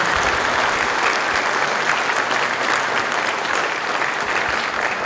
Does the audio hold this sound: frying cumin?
no